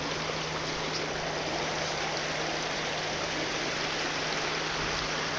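Steady river water flowing in a video game, a constant close rushing wash with a faint hum beneath and no talking.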